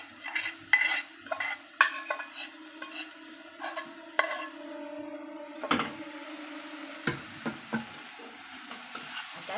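Vegetables with kokum are sautéed in a pan for a Malvani-style thali, heard as repeated close scrapes and knocks of a stirring spoon over a soft sizzle, without speech.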